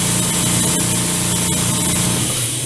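Air compressor running steadily and loudly while black lacquer-thinned paint is sprayed through an airbrush onto an HO scale milk car model, a constant dense hiss and hum with no breaks.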